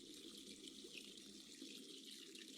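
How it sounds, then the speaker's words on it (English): Hot water pouring steadily into a bath in a video game, a constant broadband rush with no breaks, moderately loud and close throughout. "The water got cold. I'll put some more hot water in."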